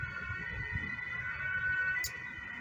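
An alarm-like siren holds a steady wailing tone in the background, faint and continuous beneath a low ambient rumble.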